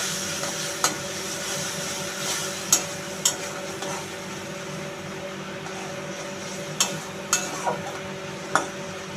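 Fish curry with spice-paste water sautés in a pan, giving a continuous hissing sizzle under a low hum, punctuated by occasional sharp clicks and scrapes of a spoon against the pan.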